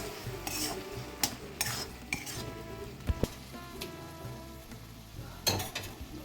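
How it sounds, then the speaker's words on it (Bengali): Soft carrots cooked in milk with added sugar are stirred for carrot halwa, with close metal spoon scrapes and clinks against the pot in irregular bursts over a faint simmering background. "চিনি দেওয়ার পর ভালো করে গাজরটাকে নাড়িয়ে নেব।"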